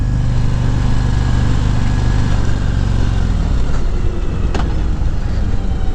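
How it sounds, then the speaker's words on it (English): A 2019 Harley-Davidson CVO Road Glide pulls hard under acceleration, its engine a loud, steady rumble that climbs in pitch through a gear change, heard from the rider's seat with a rush of wind. "as we accelerate pretty quickly with this monster of an engine"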